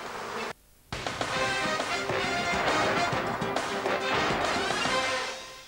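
A swarm of hundreds of thousands of bees surrounds a single man at a Guinness record attempt, a dense, loud, buzzing drone filling the space with brief knocks and a momentary dropout near the start.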